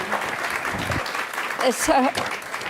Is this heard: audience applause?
yes